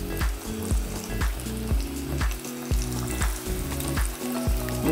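Chicken cubes frying in hot oil, a steady close crackling sizzle with bursts of spattering and bubbling that continues throughout, with no voices.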